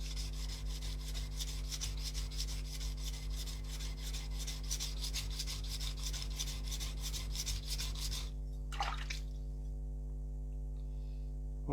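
A kitchen knife rasps back and forth over a coarse sharpening stone in rapid, regular strokes for about eight seconds, close up over a low electrical hum, then stops with a single brief scrape.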